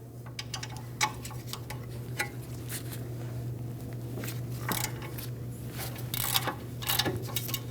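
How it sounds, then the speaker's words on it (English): Ratchet on an 18mm socket removing caliper bracket bolts from the knuckle of a 2016-2022 Mercedes-Benz GLC300 during rear brake work, giving quick clicking bursts over a steady low hum in a garage. "Now with an 18mm socket from the backside, remove the 2 bolts that hold the caliper bracket onto the knuckle."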